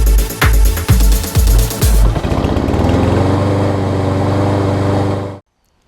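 Craftsman self-propelled push mower with a 6.75 horsepower Briggs & Stratton MRS engine pulls through a few rough chugs, then runs loud and steady up close before cutting off abruptly.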